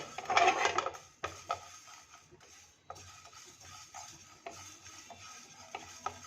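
Cumin seeds dry-roasting in a pan over a low gas flame, with a loud stirring scrape at the start followed by quieter intermittent scrapes and faint crackling.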